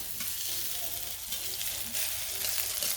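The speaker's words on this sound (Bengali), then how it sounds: "কিছুক্ষণ পর পর কিন্তু নাড়া দিতে হবে, ভালো করে ভাজতে হবে তেলে" Khesari dal fritters fry over low heat in oil, giving an even, continuous bubbling sizzle with soft crackles, close and steady throughout.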